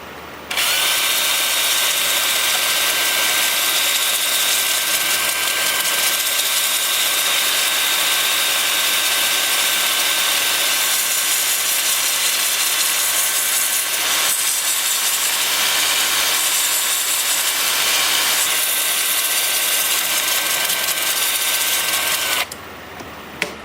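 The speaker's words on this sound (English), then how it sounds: "So I'm going to have the lathe spinning in reverse at 320 RPM. I'm going to start with an 80 grit disc on my 2-inch sander here." An 80 grit disc on a 2-inch power sander grinds against butternut wood turning in reverse on a lathe at 320 RPM, a loud steady whirring rasp held for about twenty-two seconds before cutting off.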